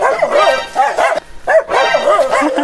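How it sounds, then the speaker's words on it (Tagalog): Small dog yapping in a rapid series of high, sharp barks with one brief pause, loud and close. "Takot ako sa aso na maliit."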